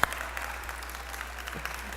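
An audience gives light, steady applause at a French-language talk. The clapping is moderately faint, even and continuous across the short stretch, with no voices over it.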